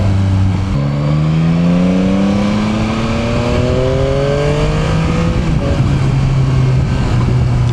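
Yamaha T-Max scooter engine revving hard, its pitch rising steadily through a long pull, then easing back to a steady drone, loud and close with no talking.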